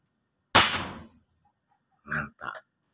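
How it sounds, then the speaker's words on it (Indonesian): An airsoft gun being fired after a trigger air-leak repair: one sharp, loud shot followed by two short mechanical clacks of the cocking action, all close up. "Kokang tembakan."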